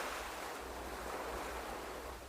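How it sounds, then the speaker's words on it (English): Ocean waves crashing on a shore as an audiobook sound effect, a steady, moderately faint surf wash filling the whole moment without speech. "as the waves crashed upon the shore."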